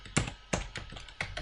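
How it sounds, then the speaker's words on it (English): A few separate keystrokes on a computer keyboard, close and quiet, tapped in an uneven rhythm with pauses between presses. "I am going to type in Lafayette."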